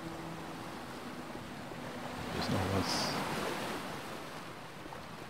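Steady rushing surf washing on a shore on a sunny day in the video game Odyssee – Im Auftrag des Königs, a continuous broad hiss with a brief swell, under a short spoken phrase.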